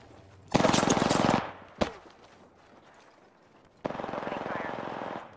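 Automatic gunfire from an Apex Legends firefight: a sustained close burst of rapid shots, a single sharp report, then a second long burst, with quieter game ambience in the gaps.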